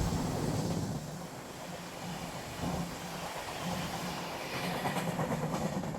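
Trains at Dankuni station in India, a steady low rumble and rolling rail noise with faint clatter, moderately distant and continuous, no talk.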